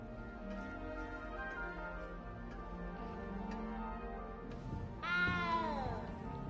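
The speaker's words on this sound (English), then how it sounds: "You don't need to be frightened, little cat." A frightened cat meows once, loud and close with a falling tone near the end, over a continuous low hum and scattered faint ticks.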